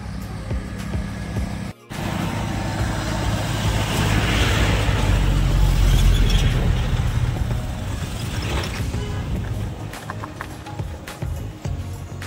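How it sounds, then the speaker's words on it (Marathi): Steady road noise from vehicles passing nearby on a road beside a valley in Konkan, a broad continuous rumble and hiss that swells in the middle and eases off toward the end. "समोरच्या साईडनं भरपूर गाड्या वगैरे येऊ राहिल्या"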